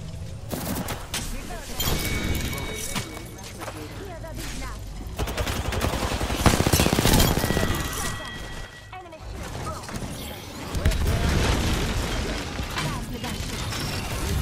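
Gunfire in a video game: rapid bursts and scattered shots come and go across the span at moderate distance, with occasional mechanical clicks and a few faint voices underneath.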